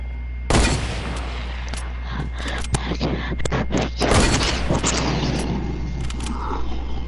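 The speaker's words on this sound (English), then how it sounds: "You're getting sniped, that kid." Sniper gunfire in Fortnite: sharp, loud shots crack out in scattered bursts over a steady low background rumble, with a dense cluster of blasts near the middle.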